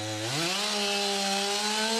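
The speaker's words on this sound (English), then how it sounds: "That chainsaw helped clear a fallen tree that crushed that car." Chainsaw clearing a fallen tree after a Bay Area storm, its engine revving up sharply and then holding a loud, steady whining drone close by.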